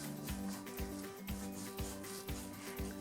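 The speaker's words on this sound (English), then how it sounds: "I'm using a sawing action and a bit of a wiggle." A kitchen knife saws back and forth through an onion near the root in a school food class, soft rhythmic rasping strokes repeating about twice per second, close and quiet, with no talk.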